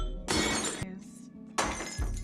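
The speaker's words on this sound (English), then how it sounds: "Millie calmly started smashing the porcelain collection piece by piece" Porcelain pieces are smashed one after another: two loud, bright shattering crashes separated by a short pause, each ending with scattered clinks and a dull thud.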